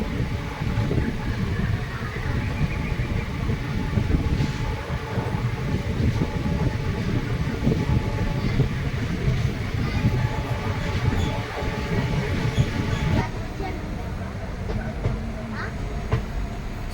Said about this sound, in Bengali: এবার ট্রেন ধীরে ধীরে আসানসোলের দিকে এগোচ্ছে